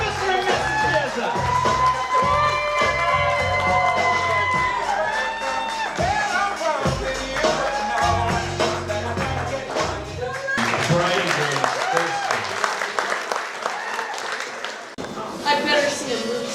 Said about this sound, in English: Everybody on their feet,